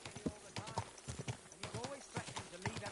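Horse hooves clip-clop in a steady, close rhythm of repeated sharp knocks, with a voice speaking over them.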